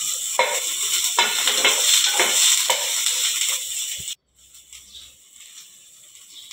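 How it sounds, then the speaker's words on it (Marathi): Onion sautéing in a pan for a biryani spice paste: bursts of sizzling frying and stirring, close and fairly loud, that drop away abruptly near the end and leave a quieter sizzle. "कांदा परतून घेते."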